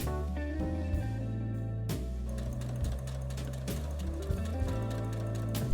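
A sewing machine runs steadily, stitching small fabric ornament fronts and backs together from scrap fabric, with a continuous close mechanical hum and rhythmic needle clatter that pauses briefly and restarts several times.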